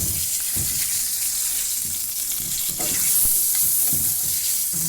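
Hot oil hisses steadily in a pan used for frying fish, a constant sizzle with a few soft stirring knocks and scrapes.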